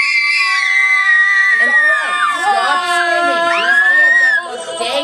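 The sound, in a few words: reindeer characters screaming in a play rehearsal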